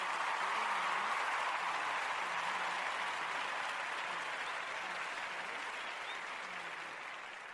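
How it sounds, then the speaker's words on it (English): Steady, even applause for guests on an interview show, a soft continuous wash of clapping that holds for several seconds and slowly fades, with no voices over it. "let's give a round of applause for our guests today"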